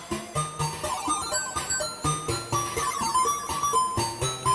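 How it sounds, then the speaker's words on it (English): Chiptune soundtrack from the Sega Master System game Lemmings, with percussive drum hits built from white noise and square waves beating a steady pattern under a bright square-wave melody, loud and continuous. "The drums are created entirely out of just white noise and square waves"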